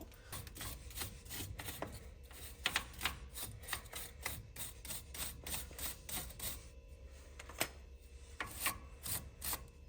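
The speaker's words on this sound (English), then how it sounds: "We'll brush all that off and we'll get that out of there." Brushing dirt off suspension parts on a 1992 K2500 farm truck, rapid scratchy bristle strokes in irregular bursts, close and quiet, with no talking.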